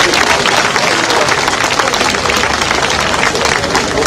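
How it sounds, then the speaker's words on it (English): Loud, dense crowd applause at a city induction ceremony for the mayor and councilwomen, continuous clapping close up with some crowd murmur underneath. "Another round of applause for them,"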